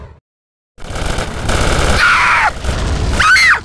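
Automatic gunfire in GTA Vice City: after a brief silence, a loud, continuous burst of rapid shots erupts, with bright ricochet-like whines and clangs cutting through near the middle and end.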